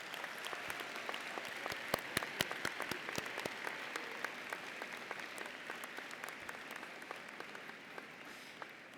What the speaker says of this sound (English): let's give a big round of applause in appreciation of your friends and family here today